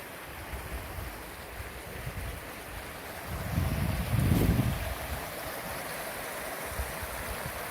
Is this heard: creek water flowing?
yes